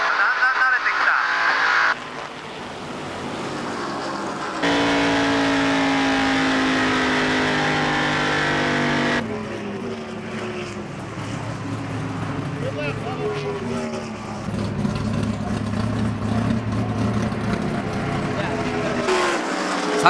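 A 1998 NASCAR race car laps an oval track, its engine roaring steadily through long stretches with shifts in pitch between onboard and passing perspectives, the loud, continuous motor sometimes overlaid by background speech.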